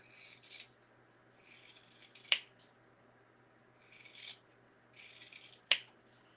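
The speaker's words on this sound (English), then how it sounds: "And then you're just going to cut thin strips." Scissors cut paper into thin strips for a tassel on a cross and tassel garland, with quiet snipping passes and two sharp, close closing snaps in an otherwise still room.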